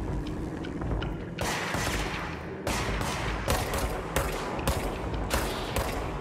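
Gunfire in the video game Control, a dense loud battle with repeated heavy shots and bursts arriving in clusters over a constant rumbling background.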